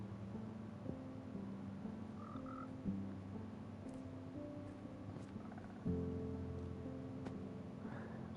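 Frogs croaking in the video game Reanimator, a steady layered chorus of low repeated croaks running continuously, with a few brighter chirps on top.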